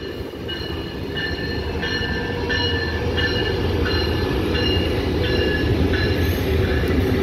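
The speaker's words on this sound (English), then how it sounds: "Uh-oh, catching the train." A Brightline passenger train passes close by on a morning in Fort Lauderdale, its loud, steady rail rumble overlaid by a repeating series of high, ringing tonal pulses.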